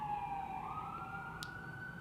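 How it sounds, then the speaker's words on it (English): Loud emergency siren wailing outside a restaurant in Toronto, one steady rising tone sustained throughout with a faint brief click midway and no talk. "there's a really loud siren."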